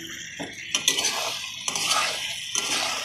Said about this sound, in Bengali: একটু ভালো করে নেড়ে চেড়ে কষিয়ে নেবো